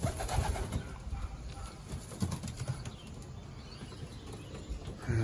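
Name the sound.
young racing pigeons cooing and flapping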